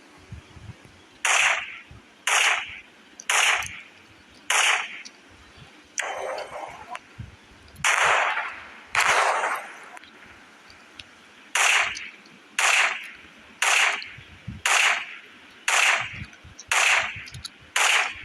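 Sniper rifle shots in a video game crack out sharply, about fifteen in a row at roughly one-second intervals with a brief break midway, loud and close with no talking.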